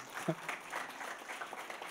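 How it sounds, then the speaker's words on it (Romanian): A church congregation applauds the women in attendance, with a brief round of moderate clapping that runs steadily for about two seconds at a fair distance. "Haideți să aplaudăm femeile, haideți să aplaudăm."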